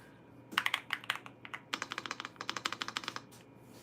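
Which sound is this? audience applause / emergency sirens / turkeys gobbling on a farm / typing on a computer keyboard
typing on a computer keyboard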